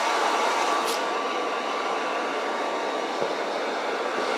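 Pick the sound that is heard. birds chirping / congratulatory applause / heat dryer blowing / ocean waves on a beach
heat dryer blowing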